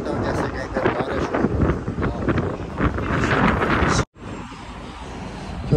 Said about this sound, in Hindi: बहुत ही ज़बरदस्त मौसम, हवा चल रही है